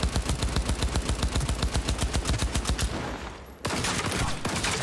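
Gunshots in the video game Cyberpunk 2077: a loud, steady stream of rapid automatic fire that breaks off briefly near the end and then resumes as a dense burst, with no voices.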